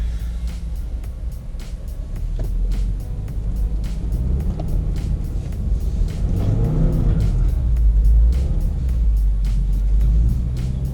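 A Subaru WRX engine drones and revs steadily while driving in snow, with a continuous low rumble and scattered crunching noises, close and loud throughout.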